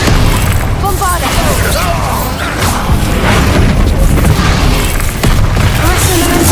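Loud booming blasts from a Bombarda blasting-spell explosion in a Harry Potter video game, set in dense, continuous battle noise with a voice shouting throughout.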